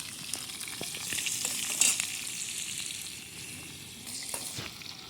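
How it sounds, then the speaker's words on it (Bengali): Sliced onion hitting hot oil in an outdoor pond-side cook of chicken heads, giving a continuous bright sizzle with scattered pops and light stirring scrapes. "তেল গরম হয়ে গেছে এবার তেলের মধ্যে পেঁয়াজটা দিয়ে দিলাম"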